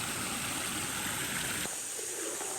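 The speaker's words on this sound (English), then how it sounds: "Well, that's the waterfalls." A waterfall pours into a lagoon on a Philippine island, producing a steady, dense rushing roar that abruptly thins partway through to a lighter, more distant flow.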